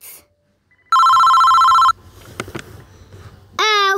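Synthetic cartoon-style telephone ringtone: a loud, steady electronic ring lasting about a second, then clicks and rustling, then a second warbling ring tone starting at the end.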